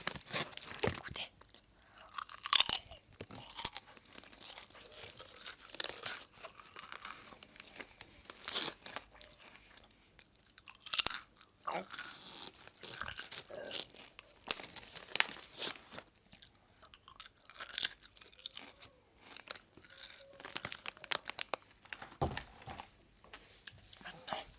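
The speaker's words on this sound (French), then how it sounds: "Je vais remanger un petit peu de chips." Potato chips crunched and chewed close up, with repeated crisp bites and crinkling packet sounds coming in irregular bursts throughout, quiet and intimate, with no talking.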